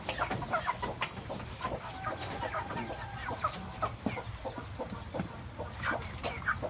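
Broiler chickens in a small pen cluck and chatter close by, a busy overlapping flock with frequent short clucks and occasional squawks.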